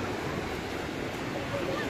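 Sea surf washing onto a clean, unspoiled beach in central Vietnam in the late afternoon, a steady broadband wash of waves with some wind noise, continuous and fairly close, no talking.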